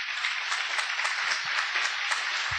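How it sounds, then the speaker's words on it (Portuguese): A church congregation claps in praise after the pastor's call, producing steady, fairly even applause through the short stretch with no voices on top. "Aplauda bem forte ao Senhor."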